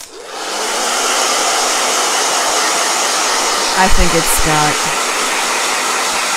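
A hair dryer blows in a close, loud, steady rushing whoosh that holds without a break from start to finish, with a brief voice over it midway.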